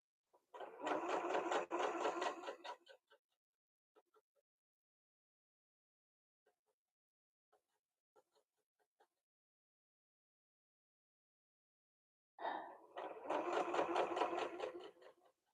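A sewing machine stitches fabric for a dog bandana in two loud, steady mechanical bursts, one at the start and one at the end, with a backstitch pass. Faint scattered clicks fill the quiet gap between them.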